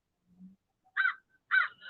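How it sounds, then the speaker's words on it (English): A crow caws in short harsh calls, one faint low note and then two loud bursts about half a second apart, close by and alone without speech. "Shut up, bird."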